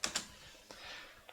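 A few quick keystrokes on a computer keyboard, with two sharp clicks close together and then two more spaced-out taps, soft and close.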